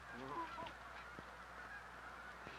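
Geese honk a few times close by early on, then fade into a quiet background with faint scattered clicks.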